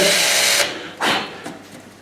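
A power drill bores into wood for a carved snowman project, a steady broadband whir that cuts off, then two more short bursts as the bit is worked across the piece, close and loud with no talking.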